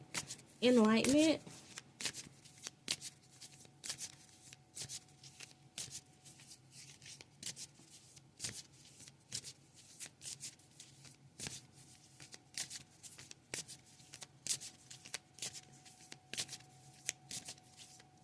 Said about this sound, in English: Spirit told me to pull from these cards, you guys, to see, to give you guys extra enlightenment.